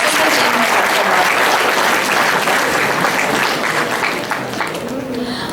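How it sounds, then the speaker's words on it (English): An audience gives dense, sustained applause for the Factana team at an innovation challenge event, with the clapping holding steady and easing slightly near the end. "Can we have a wide applause from GTNs to the successful team of"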